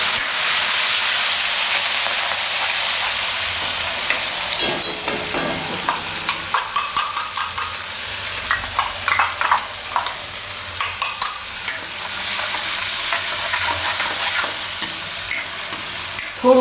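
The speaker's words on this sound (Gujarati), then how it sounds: "થોડુંક તેલમાં ફેરવી લેવાનું એને." Ground chili and garlic paste sizzles in oil over a lowered flame and is stirred around the pan, a loud, steady hiss at first that turns into uneven scraping and bubbling toward the end, with no one talking.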